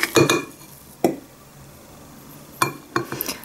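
A spoon scrapes sweet peanut paste out of the bowl of a Redmond RHB-2967 immersion blender, making a few separate close clinks and scrapes with quiet pauses between them.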